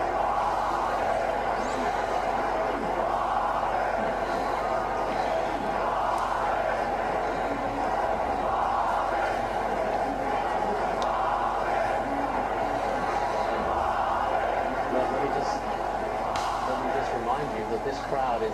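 A large protest crowd fills a Cairo square with a continuous roar of chanting and shouting voices, dense and loud throughout with no pauses.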